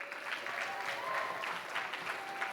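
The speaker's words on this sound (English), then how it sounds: "so we'll give them a round of applause right now." An audience at a school writers' week event applauds steadily, a soft even wash of clapping heard from some distance, fairly quiet throughout.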